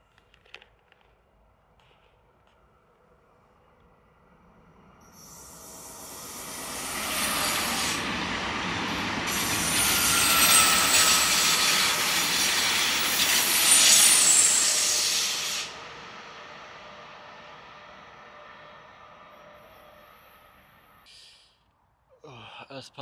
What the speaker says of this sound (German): So, da ist er, die S-Bahn. Eine schöne Doppeltraktion.